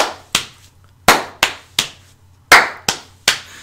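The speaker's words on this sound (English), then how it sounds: "Clap, slap, slap." Hambone body percussion: sharp, close hand claps and slaps on the body in a repeating clap-slap-slap pattern, eight crisp hits with short decays and quiet gaps between them.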